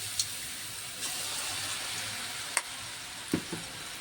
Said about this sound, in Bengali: এইভাবে দিয়ে ভালো মতন করে মুচমুচ করে ভেজে নিতে হবে